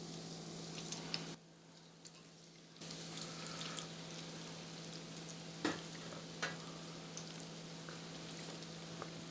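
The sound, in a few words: mac and cheese balls frying in hot oil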